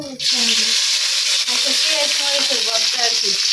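Dry red chillies frying in a pan for an onion-chilli mash, with a loud crackling sizzle that starts abruptly and stays continuous, and a faint voice murmuring underneath.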